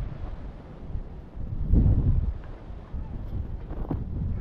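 Wind gusting outdoors at a parkour spot, buffeting the microphone with low rumbling that swells near the middle and stays rough throughout.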